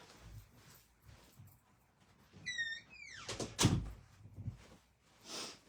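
A door in a home craft room swings and shuts with a squeak and a firm thud, close by, amid quiet handling noises.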